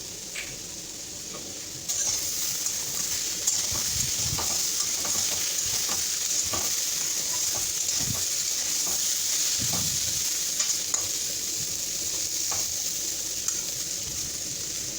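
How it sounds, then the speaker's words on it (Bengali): Bitter gourd and potatoes fry in a pan with a continuous, close sizzle, while a spatula gives occasional soft stirring scrapes and taps throughout. "এখন আমি 4-5 মিনিটের জন্য ভেজে নেব।"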